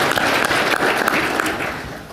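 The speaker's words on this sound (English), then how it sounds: "Round of applause for Riverside." Audience applause at a local climate action conference in California, a dense, steady wash of many hands clapping that fills the whole moment and eases off slightly at the end.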